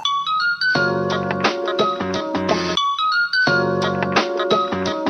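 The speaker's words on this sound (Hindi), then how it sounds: "केकर फोन हब माय?" A mobile phone plays a melodic ringtone continuously and loudly, a repeating tune that stops briefly midway before starting again, with no voices over it.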